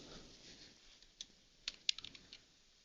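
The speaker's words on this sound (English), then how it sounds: "I hit my keyboard" A few faint, scattered computer keyboard keystrokes click softly in a quiet room, sparse and uneven rather than steady typing.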